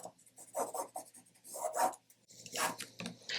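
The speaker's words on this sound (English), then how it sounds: "I'm going to draw another diagonal line, and it's going to cross over the seam allowance" A pen draws a diagonal line across fabric quilt squares, producing soft, close scratchy strokes in short bursts with pauses between.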